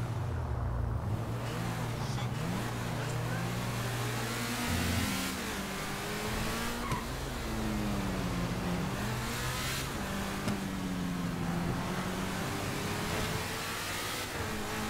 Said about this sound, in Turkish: Yani o derece araba kayıyor, uçuyor resmen.